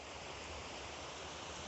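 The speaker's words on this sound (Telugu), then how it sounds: "ఆ వాటర్ సౌండ్ కూడా మీరు వినొచ్చు" A small waterfall pours over rocks at the end of a hillside stream in a forest, giving a steady, dense rushing wash that holds constant throughout, close and fairly loud with no voices.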